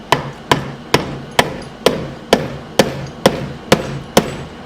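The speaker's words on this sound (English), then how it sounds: "Sometimes you gotta use this end of the hammer." Ten sharp metal hammer strikes, evenly spaced about half a second apart, hit a part during a Kawasaki KFX450R engine build, each blow close and loud with a short ring, and no talking.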